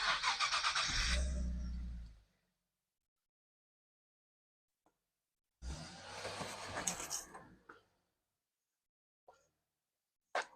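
A Nissan 370Z on its stock exhaust fitted with high flow cats starts up: a loud cranking catch and brief rev that settles and cuts, then a second start with a rougher burst of revving, followed by a few faint clicks.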